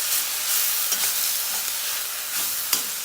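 Anchila thoran, a Kerala leafy stir-fry, being stirred in a pan, with a steady close sizzle and soft scraping strokes of a spoon, a few sharper clinks standing out, no talking.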